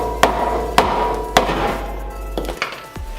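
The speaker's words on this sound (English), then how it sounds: "a couple solid whacks and she flew off" Rubber mallet whacking the brake disc off the front hub of an FD3S RX7, three loud, sharp metallic blows spaced evenly about half a second apart, then a couple of softer knocks as the disc comes loose.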